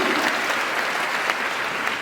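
A crowd at a public gathering applauds as an honorable member is introduced, a dense, steady clapping from many hands that holds at an even level throughout the brief moment.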